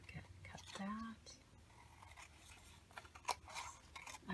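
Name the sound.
scissors cutting saved packaging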